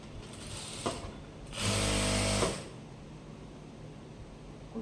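A sewing machine stitching a blouse runs in one short steady burst of about a second, loud against quiet room background, with faint handling clicks before and after.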